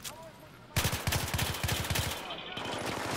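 Rapid burst of loud gunfire from a shotgun in the video game Battlefield 3, about a dozen close, evenly spaced shots over two seconds after a quieter lead-in, trailing into lingering game ambience.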